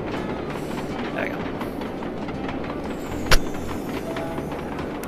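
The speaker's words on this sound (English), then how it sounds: "That's the other train." Train rolling past in the video game Sly 2: Band of Thieves, with a continuous rail rumble and clickety-clack and one sharp clank partway through. Faint talk sits underneath.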